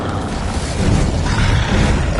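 An Incendio fire spell cast in the Hogwarts Legacy video game, a loud, roaring burst of flame with a deep booming rush that fills the whole short moment.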